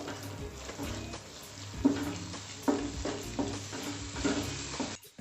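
Chili powder and coriander powder sizzle and fry in a pan for egg masala gravy while a spoon stirs and scrapes every second or so, steady crackling underneath.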